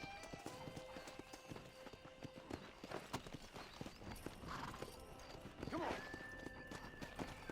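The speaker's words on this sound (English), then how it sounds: "I think that is the war horse." A war horse clip-clops along in the Red Dead Redemption video game, steady hoofbeats over a busy ambient game soundscape with a brief whinny-like cry and faint talk mixed in.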